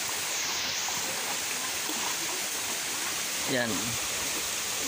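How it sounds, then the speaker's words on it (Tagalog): Waterfall and stream in the Philippines: a constant broad rush of flowing water fills the scene, with a brief voice heard over it. "Malapit na kami sa falls"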